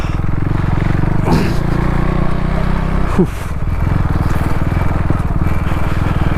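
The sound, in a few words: 390 motorcycle struggling to climb a slope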